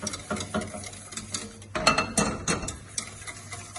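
Ingredients for eggs Florentine being stirred together in a bowl, a steady scraping and clinking of utensil against the bowl with a few louder knocks in the middle, moderately close, no voices.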